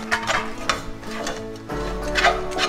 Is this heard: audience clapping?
no